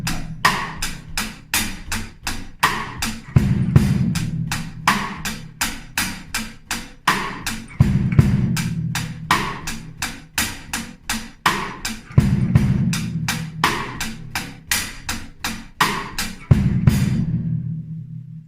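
A drum kit plays a repeating groove at a steady rhythm, with crisp hi-hat or snare strokes throughout and a bass drum thumping on the 4-and and the 1 of each bar, close and loud with no talking.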